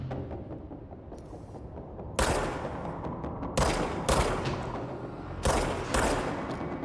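Bursts of automatic gunfire in the video game Control, several loud, broadband volleys cutting in over a low rumbling backdrop, with pauses between the salvos.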